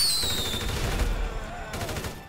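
Kalashnikov rifle fire in GTA Online, a dense burst of rapid shots rolling together for about two seconds, loud and close, fading slightly toward the end.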